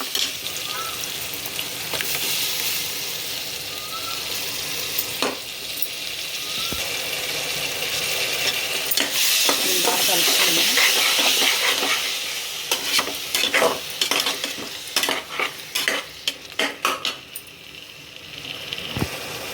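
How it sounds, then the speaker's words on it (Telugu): Browned onions and spice paste fry in a pan for goat head curry, with a constant sizzle, a busy rattling stir in the middle and a few sharp scraping taps near the end. "ఇప్పుడు ఆనియన్స్ చూసారు కదండి, రెడ్గా ఫ్రై అయిపోయి. ఇప్పుడు పేస్ట్ యాడ్ చేసుకున్నాము."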